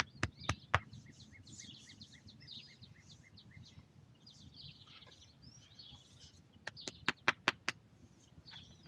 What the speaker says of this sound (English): He sounds like a big woodpecker.